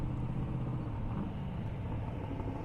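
Drag racing cars roar down a half-mile airport airstrip, a steady loud rumble of high-speed engines filling the whole stretch without a break.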